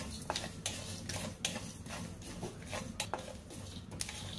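Cumin, sesame, poppy seeds, cloves, pepper and cinnamon are dry-roasted in a pan for a village-style chicken curry masala, with dry rattling and repeated spatula scrapes and taps against the metal, close and fairly quiet, no talk.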